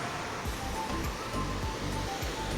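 Sea surf rolls near the shore below the pilgrimage sanctuary of San Francesco in Paola, Italy, making a steady broadband wash with soft repeated low swells and no clear voices.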